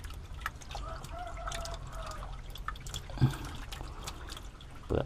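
Water drains out of a fish pond being cleaned, a faint trickling and dripping flow under quiet background noise, with a few soft knocks and a brief murmur.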